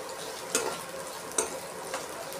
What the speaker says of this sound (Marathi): कांदा आपल्याला थोडासा परतून घ्यायचा आहे.